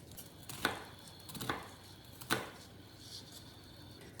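A knife chopping an onion on a cutting board, three distinct sharp chops about a second apart followed by softer quieter cuts, close but faint.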